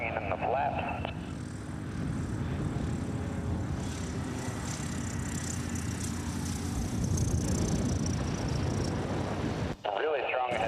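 Race airplane's propeller engine during a landing at the National Championship Air Races in Roswell, NM, a steady broad drone held close and loud for about ten seconds before cutting off abruptly near the end.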